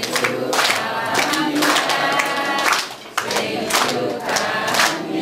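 Audience at a birthday celebration clapping along in steady rhythmic bursts while a crowd sings loudly together, the claps and voices filling the room and briefly dipping near the middle.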